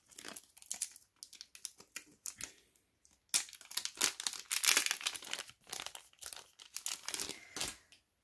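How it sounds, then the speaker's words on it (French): Plastic packaging crinkling and tearing as a small mixing spoon with a bulb-shaped bead on its handle is unwrapped, close and irregular, with bursts of rustling separated by brief pauses and a busier stretch midway. "Donc je vous la déballe."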